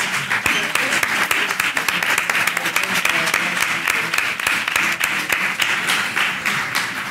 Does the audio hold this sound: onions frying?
no